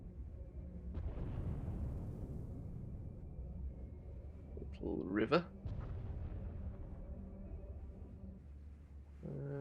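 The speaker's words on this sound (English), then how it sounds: "Must be where that explosion's coming from" Explosions in Star Wars: The Old Republic video game on Corellia, heard as low rumbling booms beneath a sustained background drone, with a louder burst in the middle and a brief spoken line.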